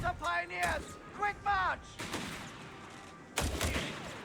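Gunfire and artillery in a Company of Heroes 3 battle: sharp shots and heavy blasts come in bursts, loud and close, with game voices calling out between them.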